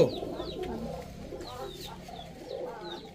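Army pigeons coo softly in repeated low, rolling calls close by, with a few chirpy bird notes mixed in and no talk.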